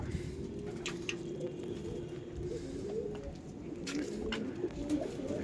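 Pigeons cooing nearby in low, soft, repeated murmurs over a steady background hum, with a few faint higher clicks or chirps scattered through.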